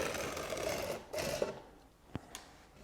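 A handheld trim router runs along a plywood edge, a steady broadband whir with a couple of louder cutting bursts before easing off to a quieter idle with brief knocks.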